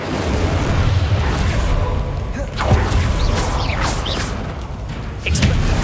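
Confringo and Incendio spell blasts in Hogwarts Legacy combat: a dense, rumbling wash of fiery bursts and booms with whooshing sweeps layered on top, loud and continuous over a few seconds.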